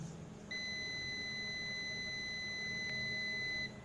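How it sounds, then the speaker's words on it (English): A multimeter in continuity mode gives a steady, clean electronic beep for about three seconds, signalling a short circuit in a DC motor project; the tone is alone over a low background hum. "there is a beeping sound which indicates that there is a short circuit"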